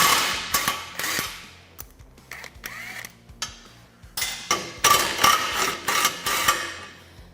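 Sharp metallic clanks, taps and ratcheting come in irregular bursts while the factory bearing carrier is removed from a Polaris RZR Turbo S trailing arm, close and mostly alone, with quiet gaps between strikes.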